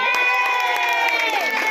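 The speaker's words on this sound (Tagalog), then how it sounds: "Palapakan po natin ating Panginoon." A crowd at a church gathering applauds and cheers continuously, with overlapping shouts and sustained clapping filling the space close by.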